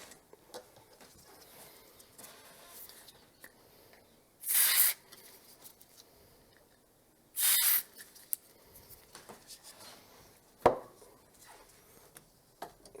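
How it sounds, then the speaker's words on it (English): WD-40 contact cleaner is sprayed onto a cartridge and its socket for a Mega ST 4 computer, two separate short hissing bursts about three seconds apart in a quiet room, with faint handling clicks around them. "Let's get the contact cleaner on that cartridge and on the socket"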